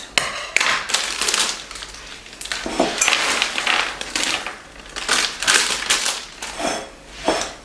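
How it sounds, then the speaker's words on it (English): Wrapped candies are peeled open one after another in a kitchen, with a run of crisp, crinkling wrapper rustles and sharp crackles at close range and no talking. "So then while those are baking, I start unwrapping my candies."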